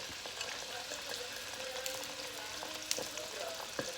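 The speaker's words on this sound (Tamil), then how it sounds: "வெங்காயம் பச்சை மிளகாயை எண்ணெயில்" Onion and green chilli sautéing in hot oil for a crab curry, giving a steady soft sizzle with a few faint scrapes of a spoon against the pan.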